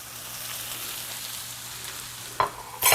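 Flour stirred into cube steak sizzling in a frying pan, a steady broadband frying hiss throughout with a couple of louder scraping stir strokes near the end; no talking.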